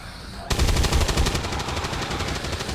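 Automatic weapon fire in XCOM 2 breaks out suddenly after a quiet moment, a fast, loud rattle of shots that continues steadily to the end.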